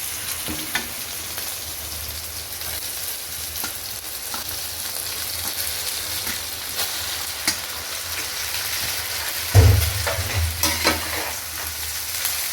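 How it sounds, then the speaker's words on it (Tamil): Boiled pasta is stirred into sautéed tomato paste in a pan, giving a steady sizzle with soft repeated scrapes and a brief louder stir near the end. "தக்காளி விழுது நன்றாக வதங்கிய பின் வேக வைத்த பாஸ்தாவை சேர்க்கவும்."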